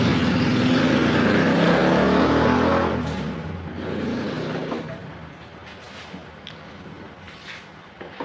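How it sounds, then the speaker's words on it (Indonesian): A loud motorcycle passes close by outside, its engine roar swelling and then receding into the distance, leaving faint background noise. "suara motor yang kenapa kenceng banget kedengeran sampai kamar"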